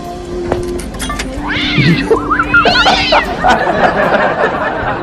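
A cat meows several times in drawn-out, wavering cries close to the microphone, heard over a busy background with voices talking.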